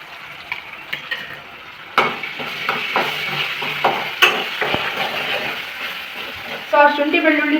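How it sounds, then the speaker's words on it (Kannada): Onions frying in a pan with ginger garlic paste added for a paneer curry, a steady close sizzle broken by clicking stirs and scrapes of a utensil against the pan, with a louder burst of frying near the end. "ಇವಾಗ ಈರುಳ್ಳಿ ಫ್ರೈ ಆಗ್ತಿದ್ದಲ್ವ, ಈರುಳ್ಳಿ ಜೊತೆಗೆ ಸ್ವಲ್ಪ ಜಿಂಜರ್ ಗಾರ್ಲಿಕ್ ಪೇಸ್ಟ್ ಹಾಕ್ತಿದ್ದೀನಿ"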